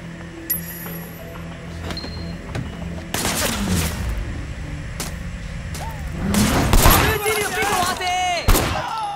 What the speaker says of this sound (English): There was a shooter, firing shots from the passenger window.